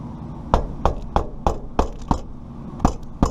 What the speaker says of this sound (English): You just hammer it right through the flashing.